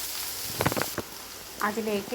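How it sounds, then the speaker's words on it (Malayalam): Chopped small onions go into hot oil with popping mustard seeds for a pumpkin curry, giving a steady soft sizzle under a brief spoken word from a nearby voice. "കടുക് പൊട്ടുമ്പോൾ ചെറുതായി അരിഞ്ഞു വെച്ചിരിക്കുന്ന ചെറിയ ഉള്ളി ചേർക്കുക"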